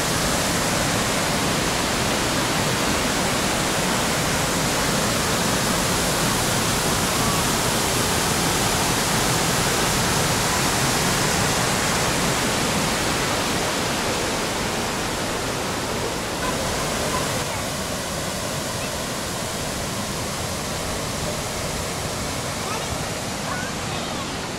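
Falls on the Linville River in the Linville Gorge wilderness roar steadily and loudly, a dense unbroken rush of water that barely changes over the whole stretch.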